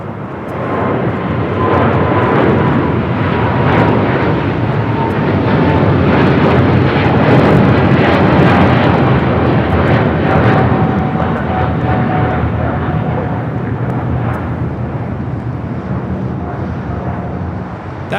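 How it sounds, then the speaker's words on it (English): Eva Air Boeing 777-300ER heavy jet taking off from runway 25 right at LAX, a loud sustained engine roar swelling to a peak midway with a thin tonal whine, then slowly fading. "That is Eva Air Flight 5 taking off to Taipei on a 777-300ER"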